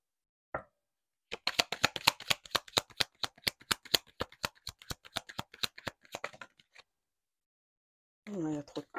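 Tarot cards are shuffled close up in a rapid series of crisp, sharp card snaps over several seconds, set in near silence, followed briefly by a speaking voice.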